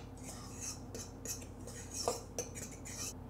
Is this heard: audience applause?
no